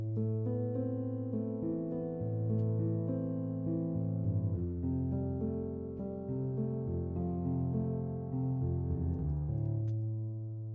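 Piano accompaniment in a steady duple pulse, a layered part for a video game save theme, playing sustained chords and a moving bass line at a moderate level, with no talking.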